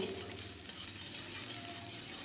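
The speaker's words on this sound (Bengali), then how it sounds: "এবার সেই তেলে দিয়ে দিলাম পেঁয়াজ কুচি আর তেজপাতা দিয়ে একটু ভালোভাবে নেড়ে চেড়ে ভেজে নেব" Chopped onion and bay leaves sizzle in hot oil in a pan while being stirred, a steady, fairly quiet frying hiss that carries on throughout without any voices.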